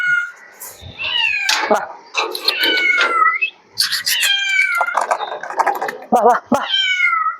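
A small kitten separated from its mother meows repeatedly in loud, high, pleading cries, close by and nearly continuous, with a voice speaking over it.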